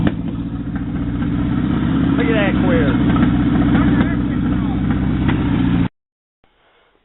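A Mazda truck engine idles with a deep, steady rumble close by, someone talking over it, before it cuts off abruptly into near silence.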